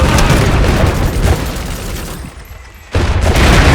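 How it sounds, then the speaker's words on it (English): Artillery fire in the Iron Harvest video game: heavy, continuous booms and blasts roll together into a dense, loud barrage, dipping briefly before resuming at full force. "Artillery."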